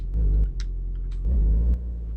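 Car engine in the video game My Garage idling low and rumbling as the car is put into reverse with the handbrake off, steady drone with brief revving swells.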